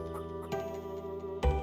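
A chicken in a farm-building video game gives a few short soft clucks, then a louder cluck near the end, over a steady game music bed.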